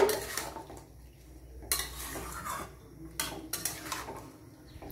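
A utensil scrapes and clinks against a pan while chicken feet curry is stirred, in soft repeated strokes with a few sharper knocks between quieter stretches.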